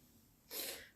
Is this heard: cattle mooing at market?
no